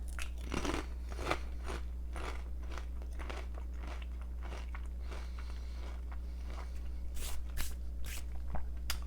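Crisp, repeated crunching and chewing sounds up close as someone bites into chips loaded with freshly made roasted salsa, irregular bites over a low steady hum, with no talking.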